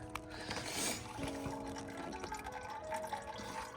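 Engine oil draining from a 2001 Lexus ES300 into a pan below, a continuous close splashing liquid stream with steady pouring and dripping texture.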